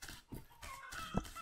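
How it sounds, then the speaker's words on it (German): Chickens on a roof in the survival video game Survive the Nights give a few soft, faint clucks in quick succession over a brief quiet stretch, with no talking. "Hühner um Dach. Chickens on the roof."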